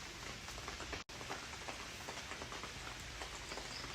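Steady rain pours on a rainy day on the island of Koh Yao Yai, a dense, continuous hiss of drops on surfaces, close and even throughout, with one brief dropout of sound partway through.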